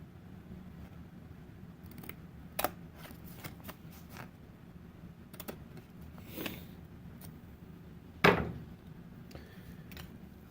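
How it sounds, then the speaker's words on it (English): Scissors cutting thin wood strips for wooden rings, a scattering of sharp close snips and clicks over quiet background, with one louder crunching cut near the end. "These pieces of wood are so thin you can cut them with a pair of scissors."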